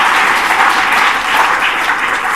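Sustained applause from a group of students at a school speech, poetry and dance competition, an even wash of many hands clapping loudly with no talking.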